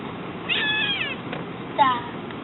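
Siamese kitten meowing twice, a drawn-out high cry followed by a shorter, sharper one, close by over a faint steady background hiss.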